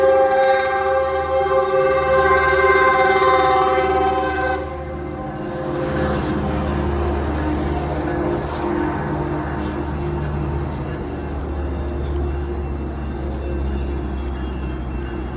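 Train rolling past close by, opening with a loud sustained horn blast that fades into a heavy continuous rumble and clatter of railcars, with a few sharp metallic clanks along the way.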